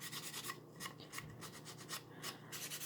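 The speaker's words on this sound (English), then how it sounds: "Buff it till you feel that it's smooth." A cloth buffs wax onto a wooden snowflake cutout in quick rhythmic rubbing strokes, about a dozen soft swishes in under three seconds. The strokes are close but quiet, and no one speaks.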